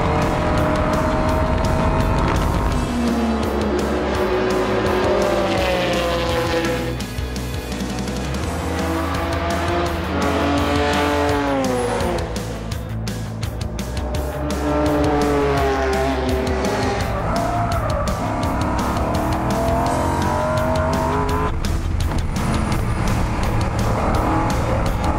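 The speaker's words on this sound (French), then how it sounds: "embarquement immédiat à bord de la Cobra de David Hart et Hans Hugenholz" Onboard a Cobra race car in a historic race at Spa-Classic, the engine roars loud and continuous, rising and falling through gear changes and corners, with tire squeal in places.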